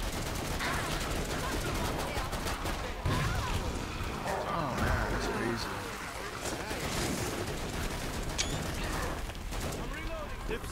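Video game gunfire from Killing Floor 2 rattles in dense, continuous bursts under a noisy wash of combat sound, with a player talking over the action.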